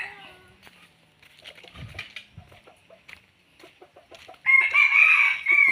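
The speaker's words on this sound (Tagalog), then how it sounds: "Ating silipin yung mga manok." Chickens and roosters, kept as decoy birds for catching wild junglefowl, cluck and rustle nearby before a loud rooster crow rings out near the end; a voice speaks briefly at times.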